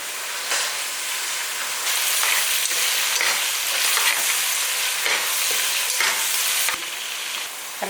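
Onions sautéing in a pan for mutton dum biryani, a loud, continuous close sizzle with bursts of crackling and occasional clinks, no talk over it.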